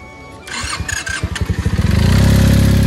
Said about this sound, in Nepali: यसले अब इन्जिन चेक गर्छ कस्तो छ साउन्ड के हो भनेर